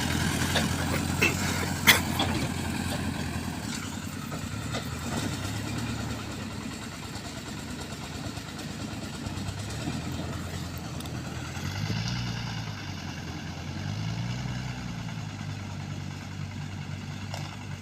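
A low engine rumbles steadily throughout, idling and chugging at a constant pace with slight swells, heard from moderately close with no talk.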